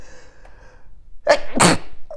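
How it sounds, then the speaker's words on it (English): A single loud, close sneeze, a sharp intake followed by an explosive burst, after a moment of faint background sound. "I sneeze."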